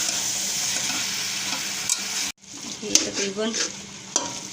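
Carrot halwa is roasted in ghee and stirred with a spoon, a steady sizzle with scraping strokes that cuts out abruptly midway and then returns with irregular stirring clinks while a voice speaks briefly.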